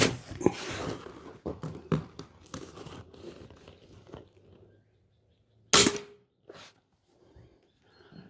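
Sumatra 2500 air rifle firing a 30 grain Altaros slug into clay, a single sharp crack near the start followed by a second loud snap a few seconds later, with rustling handling noise around them.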